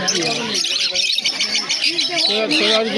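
Conures and parakeets at a bird market squawk and chirp in a dense, continuous chorus, shrill calls overlapping throughout with a voice talking underneath.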